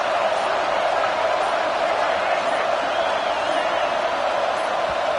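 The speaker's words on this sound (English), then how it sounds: "It's early, but this crowd is fired up. Listen to this noise here." Stadium crowd roar in the NCAA 25 college football video game, a dense, steady wash of cheering and noise from a fired-up home crowd that holds level throughout with no break.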